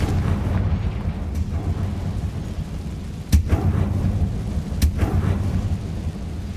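A Confringo blasting spell detonates in Hogwarts Legacy gameplay, heavy rumbling booms rolling continuously with two sharp cracking impacts standing out, loud and close, with no voices.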